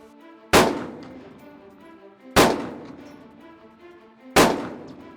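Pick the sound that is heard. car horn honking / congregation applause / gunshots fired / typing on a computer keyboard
gunshots fired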